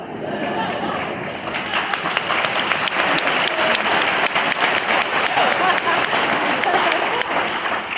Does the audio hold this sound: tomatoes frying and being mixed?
no